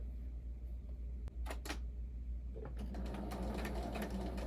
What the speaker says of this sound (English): I'm going to continue a straight stitch down the whole length of the pocket